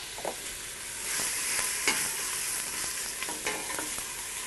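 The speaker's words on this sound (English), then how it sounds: "Into that I'm going to place 1 clove of minced garlic, got 1 green pepper, and about 1 cup's worth of diced onions." Minced garlic, green pepper and diced onions frying in olive oil for tortilla soup, a soft steady sizzle broken by several sharp stirring scrapes, close and alone without speech.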